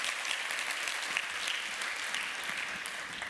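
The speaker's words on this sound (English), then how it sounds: "Give her a very warm applause, please." Audience at a women-in-tech conference claps warmly after a speaker, steady dense applause sustained evenly throughout, fairly close, with no voices on top.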